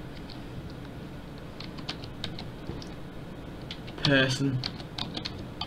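Keys tapped on a computer keyboard while setting up third-person view in Garry's Mod, a brief burst of clicks under steady background noise as a person speaks.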